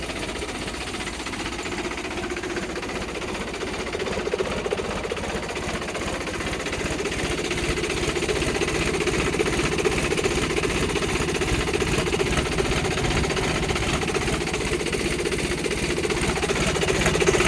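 A Mahindra 395 Super Turbo tractor engine runs steadily close by, a continuous rattling rumble that grows slightly louder over time.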